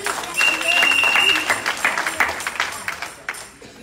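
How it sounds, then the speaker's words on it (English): Church congregation clapping hands during a sermon, a steady burst of applause mixed with a preacher's voice and crowd noise throughout. "Come on, clap your hands."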